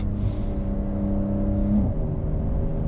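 A 2020 Porsche 911 Carrera 4S (992) engine revs up from idle to a strong, rising hum, holds there, then settles back to a lower growl, close by and with no talking.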